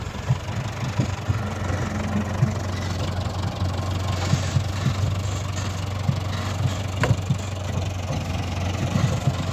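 A Renault 11 Turbo engine runs steadily with a low, throbbing idle-like drone and faint ticking, loud and continuous from start to finish with no voices over it.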